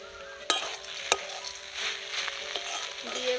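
Spinach greens with crumbled fried lentil dumplings are stirred in a sizzling pan, with a few sharp spatula scrapes and clacks over a continuous frying hiss, heard up close with no talking.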